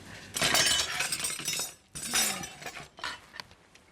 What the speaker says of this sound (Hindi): मोनिशा, तुमने वो सीडी बर्तनों में रखी थी?